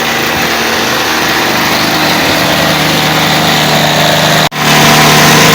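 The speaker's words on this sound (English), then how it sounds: "I'll leave her running now because for 10 minutes she's running in a brand new engine" Brand-new RC model airplane glow engine running in on a test stand, a loud, steady high-pitched buzz held at constant revs that cuts abruptly for a split second near the end before resuming.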